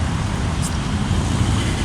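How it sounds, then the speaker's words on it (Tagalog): Steady road traffic in the Philippines, a continuous low rumble of passing cars and engines without a clear break, close and fairly loud throughout. "Traffic dito."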